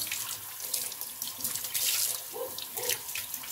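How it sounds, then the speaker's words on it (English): Tap water runs steadily into a sink while raw chitterlings are rinsed, a close, continuous splashing stream with small gurgles and shifts as the meat moves under the flow. "And then you want to rinse it off. Rinse it off really well."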